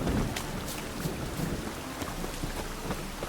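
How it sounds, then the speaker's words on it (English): Steady rain falls in The Witcher 3 video game, a dense continuous hiss with faint low rumbles underneath, holding at an even level with no voices present. "Must be mad running around in this rain."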